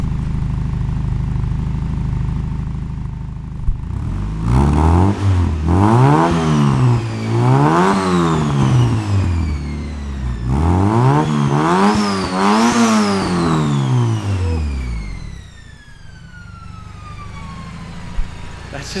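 A turbocharged Honda EK hatchback engine revs hard through its exhaust in repeated climbing and falling sweeps, loud and close, with a whistling turbo whine riding on top.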